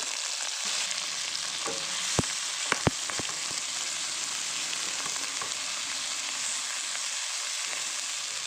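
Shrimp and meatballs stir-fried together in a hot pan: a steady close sizzle with a few sharp clacks of a utensil against the pan, no talking.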